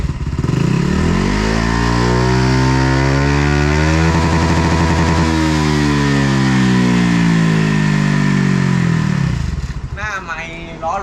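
A Honda Giorno scooter engine with a new exhaust core and stock ECU revs hard and holds near the rev limiter, a loud, close, steady high-rpm drone with a rapid stuttering cut in the middle before dropping off at the end.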